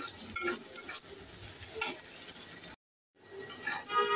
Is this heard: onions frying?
yes